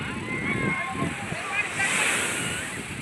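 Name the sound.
sea waves at Alibag beach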